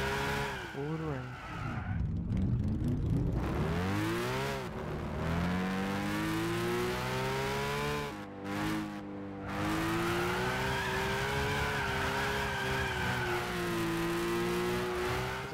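A Nissan Skyline 2000GT-R drifts in Gran Turismo, its engine revving and wailing through long slides with tire squeal, loud and continuous, while someone talks over it throughout.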